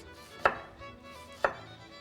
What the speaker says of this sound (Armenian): Սոխը ինչպես պիտի կտրատենք, կիսալուսնաձև թե կլոր։